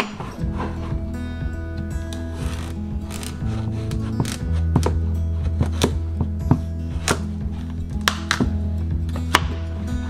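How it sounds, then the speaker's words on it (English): A kitchen knife slices rinsed butternut squash in half lengthwise on a board, giving repeated sharp cracks and clicks with dull knocks and a low steady hum beneath, close by. "I'm just gonna slice these in half lengthwise like this."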